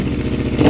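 Royal Enfield Interceptor 650 parallel twin fitted with prototype exhaust headers, a brief loud close burst of rumbling, pulsing exhaust note that swells slightly at the end.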